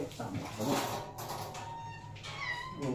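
A house cat gives a few short meows close by, mixed in with rustling and someone talking casually over the sound.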